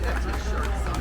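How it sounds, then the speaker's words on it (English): A small crowd chatters at the Hound Dog Festival in historic Silverhill, Alabama, a steady murmur of overlapping voices close by under a constant low hum, with no single speaker standing out. "they've got a little crowd already"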